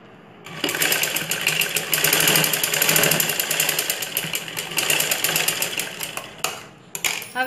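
A sewing machine stitches a folded blouse neck piece in one loud, continuous whirring run that starts abruptly, holds steady for several seconds, then trails off into a few short bursts.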